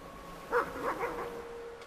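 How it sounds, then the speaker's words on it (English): A fox in the British countryside barks at night, giving a few faint, distant calls against a quiet background with no one talking. "The calls of owl or barking fox, nightjars and bats filling the night."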